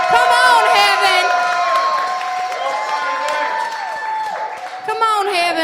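Crowd cheering and whooping for a beatboxer, with loud shouts and high excited voices over a steady roar of noise, some claps mixed in, louder at the start and end.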